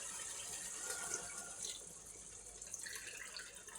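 Water runs from a tap into a pan being rinsed while cooking chicken tikka masala, a continuous splashing trickle close by with a brief louder surge midway, no voices.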